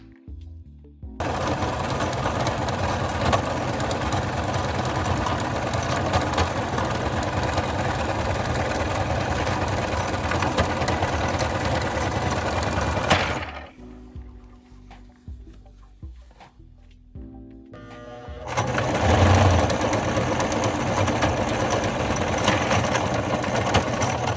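A sewing machine stitches fabric straps in a long, loud, continuous whir up close, stops for a few seconds, then starts again at the same steady pace.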